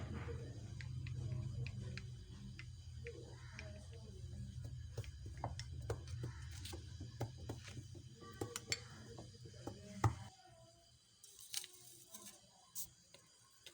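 Milky coffee being hand-beaten in a cup, a spoon clicking rapidly and steadily against the sides with a low hum behind it, the steady strokes breaking into a few scattered, sharper taps near the end.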